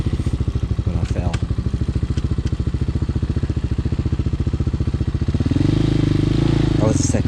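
A Honda Hawk 250cc motorcycle engine pulses steadily while riding slowly in second gear, close and loud, with a brief rise in revs near the end.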